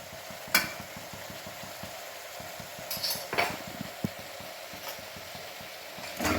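Garam masala and chili powder frying in oil, a steady low sizzle under rapid rhythmic stirring scrapes, with a few sharper clinks of the spoon against the pan.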